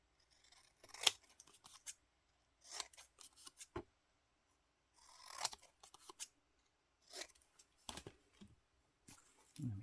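Scissors trim a paper banner in a quiet room with close, crisp snips and crunches that come in short bursts, about eight or nine cuts separated by pauses.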